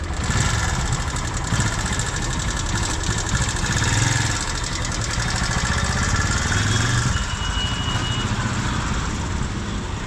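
A motorcycle engine runs steadily for the whole stretch during a test ride, a loud, even mid-pitched drone with slight fluctuations and no talking.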